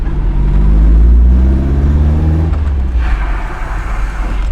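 A Toyota AE86 engine, a budget build, rumbles loudly nearby with a rising rev whose pitch climbs then eases off, settling into a rougher idle-like drone toward the end.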